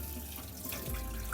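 Tap water runs steadily over mutton bones being washed in a kitchen sink, a close, continuous splashing stream with no voices.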